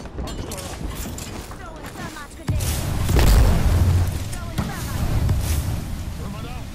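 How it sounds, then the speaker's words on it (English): A grenade explodes in the battle royale game Apex Legends, a low rumbling boom that hits midway and swells over windy in-game ambience. "I hit him with a grenade."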